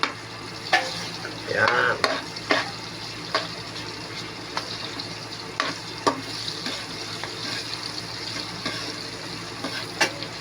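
Onions sautéing in a pan for pork and chicken adobo make a steady sizzle with several sharp spatula clanks and scrapes. A voice speaks briefly near the start.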